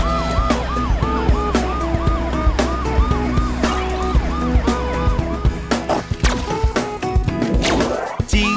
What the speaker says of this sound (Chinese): 警车警车滴滴呜滴滴呜